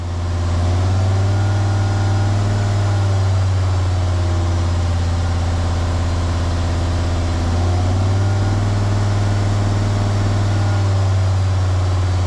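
A Jeep WJ with the 2.7 CRD diesel engine, smoking a little, idles steadily up close, a constant low throbbing hum with a faint mechanical clatter that holds evenly throughout, no voices.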